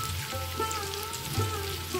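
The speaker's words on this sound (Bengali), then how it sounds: "কুমড়ো ভাজা ভাজা হয়ে গেছে, এবার আমি আলুগুলো দিয়ে দেবো" Potatoes sizzling in an oiled pan alongside already fried pumpkin, a steady close crackle and hiss with small pops throughout.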